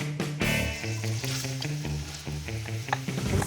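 Diced red onion sizzles steadily in hot chili, garlic and ginger-infused ghee, a continuous close frying hiss with light stirring, no voices.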